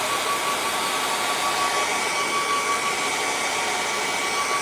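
A hair dryer blows steadily and loudly on wet acrylic paint on a beginner's moonlit mountain landscape painting, a continuous whirring rush with no pauses.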